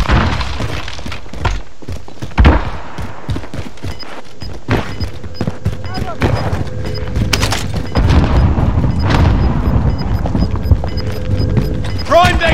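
A frag grenade explodes in Call of Duty: Warzone with a loud, close boom and shattering debris, set among other in-game bangs, gunfire and clatter, while players talk over the action throughout.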